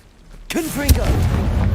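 A Confringo blasting spell explodes in the video game Hogwarts Legacy, a sudden booming burst with a sharp crack near the middle, followed by a sustained rumbling roar, with a voice calling out the spell over it.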